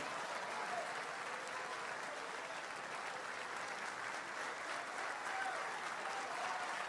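A church congregation stands and applauds during a worship service, a steady, dense wash of clapping from many hands that holds evenly throughout without voices.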